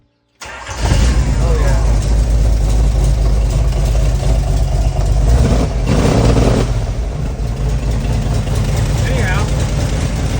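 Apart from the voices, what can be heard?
Jeep CJ5 engine starting and idling, dual exhaust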